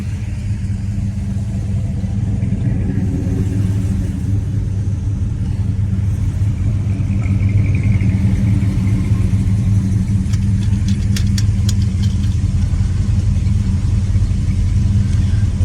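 Period-correct Hemi V8 in a 1970 Plymouth Superbird rumbling steadily at a speedway car event, a deep continuous low idle with a slight swell near the middle and faint high ticking toward the end.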